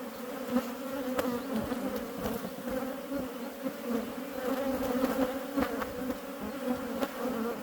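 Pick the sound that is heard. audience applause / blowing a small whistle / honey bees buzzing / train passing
honey bees buzzing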